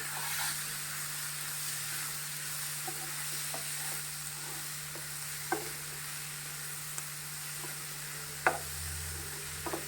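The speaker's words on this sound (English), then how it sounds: "Now I will add prawns which we had sauteed and kept" Sautéed prawns for a Goan-style prawn chilly fry are stirred in a pan on low to medium flame, giving a faint steady sizzle with a constant hum and occasional soft clinks of the spoon.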